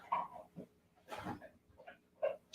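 A big dog whimpers and snuffles in short, uneven bursts indoors, close and fairly quiet, with brief gaps between the sounds.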